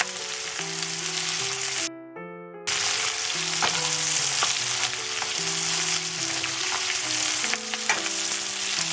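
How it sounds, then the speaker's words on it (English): Onions sauté in a pan before okra goes in, giving a steady frying sizzle with light crackles, close by, under a gentle background melody that drops out briefly, no speech. "So we'll saute this a little bit, and then we'll add the bhindi."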